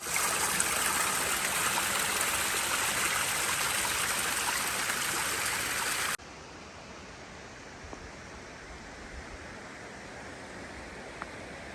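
A winter waterfall at McConnells Mill State Park, Pennsylvania, rushes in a steady, dense roar, then abruptly drops to a quieter but continuous flow.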